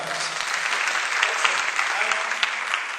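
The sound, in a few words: audience applause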